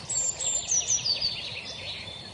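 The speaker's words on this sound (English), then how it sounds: "we have red wings, blackbirds singing" Red-winged blackbirds singing outdoors in Finland on a near-freezing morning, a few high, thin whistled phrases over faint background ambience, with no voices.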